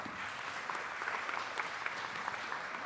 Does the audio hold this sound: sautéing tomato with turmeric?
no